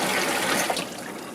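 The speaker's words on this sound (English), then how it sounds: "make sure you run hot water and put a lot of soap down there" Hot water runs steadily from a tap into a kitchen sink drain, a constant broadband rush that stays close, fairly loud and alone without interruption.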